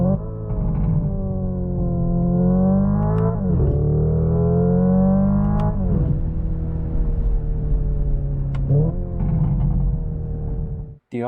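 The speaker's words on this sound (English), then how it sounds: "a synthesized version of the same crackles, pops, and bangs at higher RPMs" Synthesized engine sound from a 2025 Hyundai Ioniq 5 N electric car, rising tones that climb through simulated gears with sharp crackles and pops at each shift, loud and steady with no talk.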